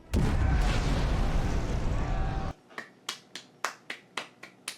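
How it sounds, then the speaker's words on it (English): A loud, sustained explosion rumble from a TV show fills the first half, deep and roaring, then cuts off and gives way to a series of sharp, evenly spaced cracking bursts that fade quickly. "visually, that explosion looked good"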